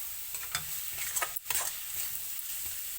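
Momo filling seasoned with black pepper fries in a pan with a faint, steady sizzle under several quick spatula scrapes and stirring taps, with no voices.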